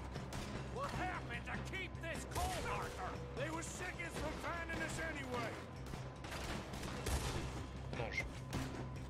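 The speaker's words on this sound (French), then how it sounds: "je tire avec mon double canon" Double-barrel shotgun blasts in Red Dead Redemption 2 boom out sporadically among other game gunfire and clatter, loud but mixed under near-constant speech from a player.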